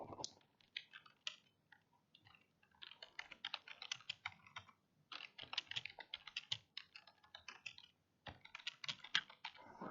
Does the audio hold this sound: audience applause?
no